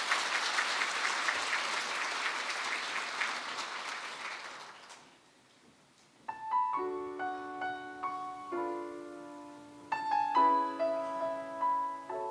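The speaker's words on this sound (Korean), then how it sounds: "박수로 맞아주세요." A church congregation applauds steadily to welcome a small vocal ensemble during an evening revival service. The clapping fades out after about five seconds and is followed by soft piano accompaniment.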